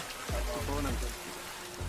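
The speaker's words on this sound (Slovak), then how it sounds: "Prší trochu." Light rain falls outdoors as a soft, steady hiss beneath people talking nearby.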